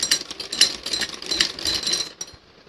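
Sewing machine running stitches along a fabric strip for a frilled dress, a close, loud rapid chattering in short bursts that stops near the end, no speech.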